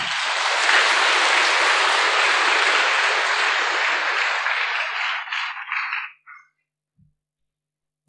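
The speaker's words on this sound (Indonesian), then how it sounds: "Tepuk tangan untuk Pak Nur Hasan." A crowd at a religious gathering bursts into loud, dense applause right away, holding steady for about six seconds before it thins out and stops, leaving near silence.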